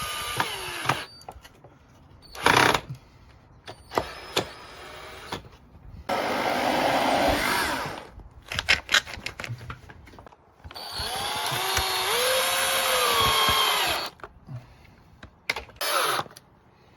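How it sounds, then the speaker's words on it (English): A power drill in hammer mode bores into wood while a bird feeder table is built, two sustained whirring runs broken by short bursts, clicks and handling knocks, close and loud. "When drilling wood, it's really important to use it in hammer mode."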